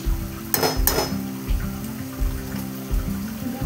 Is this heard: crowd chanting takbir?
no